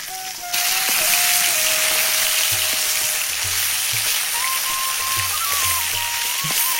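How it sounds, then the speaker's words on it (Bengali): Katla fish fries in a pan at a farmer's home, giving a loud, steady sizzle throughout with occasional soft low knocks from the pan. "এখন মাছ ভেজে নেওয়া হচ্ছে"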